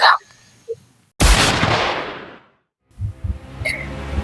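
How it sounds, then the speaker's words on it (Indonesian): Gunshots inside a village hall, a sharp loud blast with a long decaying echo, preceded and followed by fainter noises and commotion. "Suara tembakan menggema di seluruh balai desa."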